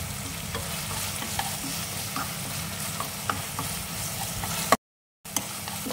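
Minced meat filling seasoned with sugar and MSG stir-fries in a hot pan. A constant loud sizzle runs throughout with scraping stirs, then breaks off for an instant of silence before resuming.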